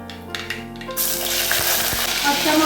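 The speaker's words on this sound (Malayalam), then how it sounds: "അപ്പോൾ നമുക്ക് 1 സ്പൂൺ കടുക് ഇടാം. അപ്പോൾ നമ്മളിത് കടുക് പൊട്ടി," Mustard seeds hit hot sesame oil and burst into a loud, close, continuous sizzle with scattered crackles, after a brief quieter moment of light clinks.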